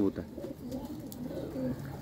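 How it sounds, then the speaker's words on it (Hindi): Pigeons coo softly in repeated low, throaty calls from a rooftop, with a faint murmur of a voice underneath. "ये देखें कबूतर बहुत सारे हैं मेरी छत पे मौजूद हैं"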